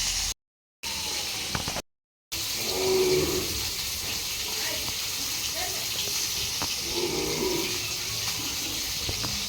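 Cut potatoes are washed in water, with steady sloshing and swishing close by and two brief silent gaps near the start.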